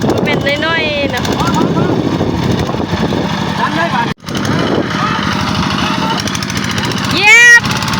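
Siam Kubota engine powering a rice-milling cart in rice fields: a loud, steady chugging drone runs throughout with a brief dropout near the middle and a louder swell near the end.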